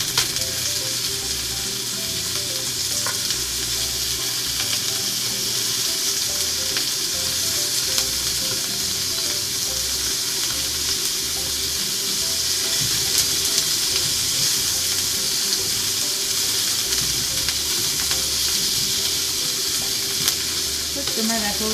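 Thawed pork belly, still partly frozen, sizzles and fries steadily in a pan, a dense continuous crackle with occasional stirring clatter and no talking.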